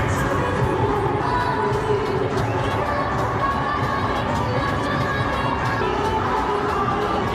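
A large cricket crowd fills a stadium during an India versus New Zealand T20 match, a dense, steady roar of chatter and cheering with scattered shouts, loud and continuous throughout, with a commentator's voice faintly under it.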